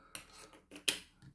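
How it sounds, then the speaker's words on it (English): Scissors snip through a piece of tape with a few quick, crisp close cuts and light rustles, including one sharper snip near the end, in a quiet room. "Scissors, there we go."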